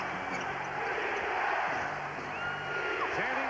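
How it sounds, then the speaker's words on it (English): Basketball arena crowd at the 1989 NBA Finals, Pistons vs Lakers in Detroit, on its feet in a steady, loud roar of cheering and whoops that fills the whole clip under an announcer's voice. "This crowd on its feet."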